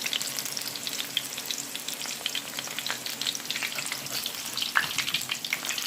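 Trinidadian bara dough fries in hot oil, a bright, crackling sizzle full of rapid pops, with an occasional clink as a slotted spoon flips the pieces, close and continuous, no voices.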